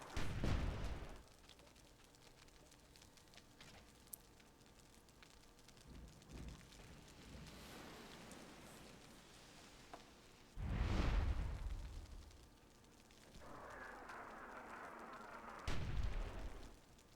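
Firebombing explosions in the video game Myth II Soulblighter, several separate heavy booms with crackling fire and rumbling decay between them, a burst at the start, another near the middle and one near the end over a low ambient bed, with no talk.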